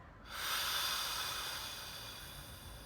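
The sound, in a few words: breathing out through the mouth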